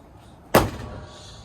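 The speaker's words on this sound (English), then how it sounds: "So just shut the hood." A single solid thump as the hood of a Ford Crown Victoria or Mercury Grand Marquis is shut, brief and close, followed by faint wind and background hiss.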